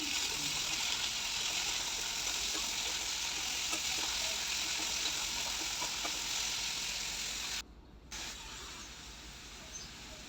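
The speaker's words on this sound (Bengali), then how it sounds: "এখন সজনেটা আলুটা দিয়ে দিলাম" Tomato, drumstick pieces and potato fry in a pan, giving a dense continuous sizzle and hiss with faint stirring, broken by a brief drop in sound near the end, close with no voices.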